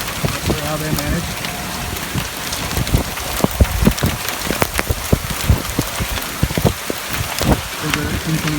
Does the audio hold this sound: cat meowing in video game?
no